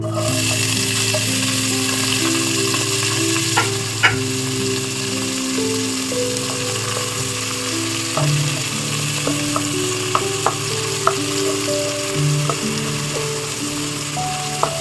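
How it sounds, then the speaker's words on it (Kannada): Chopped onions fry in hot oil in a pan for a mushroom gravy tempering, a steady close sizzle with occasional sharp clicks and crackles throughout. "ಕಟ್ ಮಾಡಿದಂಥ ಈರುಳ್ಳಿ ಹಾಕ್ಕೊತಾ ಇದ್ದೀವಿ"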